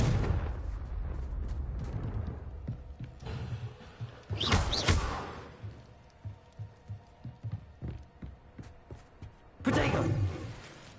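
Confringo fire spell explosions in Hogwarts Legacy, a burst of loud booms with a fiery whoosh around the middle, then a string of softer rhythmic thumps and a final heavy blast near the end, with no talking.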